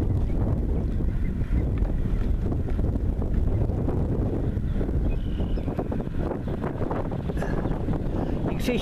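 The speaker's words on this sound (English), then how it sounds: "It's really windy out here today." Strong wind roars steadily across the microphone out on open water aboard a model tug, a dense, buffeting rush that stays loud the whole time.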